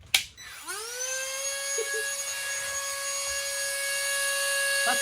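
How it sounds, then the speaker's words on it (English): A Dremel rotary tool spins up after a sharp click, settling into a steady high-pitched whine that grows gradually louder as it starts cutting into a motorcycle fairing, close and alone. "time to get the Dremel out and do some eyeballing"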